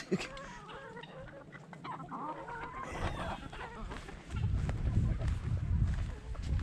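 Chickens and a young rooster cluck and squawk near a person during treat time, a busy flock chatter close by, with someone talking over them and louder flapping and scuffling near the end.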